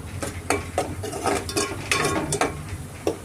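Masala for a korameenu fish curry frying in oil, a soft sizzle broken by a spoon scraping and stirring in the pan in irregular strokes, close and fairly quiet.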